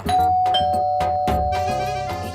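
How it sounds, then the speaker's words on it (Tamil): A household doorbell rings loud and close with a bright, repeated electronic chime melody, clearly heard alone. "யாரோ காலிங் பெல் அடிக்கிறாங்க போய் பாருங்க"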